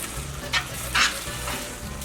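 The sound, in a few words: stirring melting queso cheese dip in a pan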